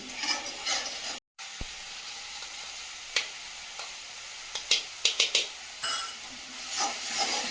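Tomato frying in oil in a pan for a Bengali big-fish kalia, a steady close sizzle with a brief silent gap and a few sharp crackles and spatters toward the end.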